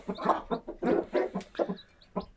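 Chickens and chicks in a flooded coop cluck in a steady string of close, loud calls, with faint high peeps from the chicks between them.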